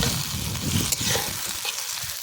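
Tomato sizzling and frying in hot oil in a pan for a silver carp curry, a steady close crackle with faint stirring, no voices.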